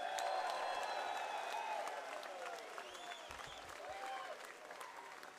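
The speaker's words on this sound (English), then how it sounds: "How about another round of applause for Dr. Carol Williams?" Audience applause after a talk at a gathering, a sustained, fairly faint wash of clapping that slowly tapers, with a few whoops and cheers rising above it.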